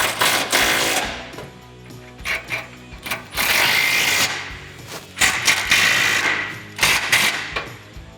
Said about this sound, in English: Now we're going to run through with an 18mm socket and wrench and tighten all this down.